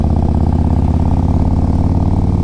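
A rebuilt engine on a 2004 Harley-Davidson Electra Glide Ultra Classic runs steadily up close, with a loud, even idle that pulses throughout and carries no speech.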